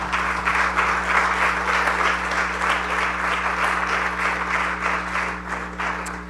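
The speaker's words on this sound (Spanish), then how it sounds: "Dele un aplauso al Señor." Steady, dense applause from a church congregation fills the room for several seconds, loud and sustained with a constant low hum underneath.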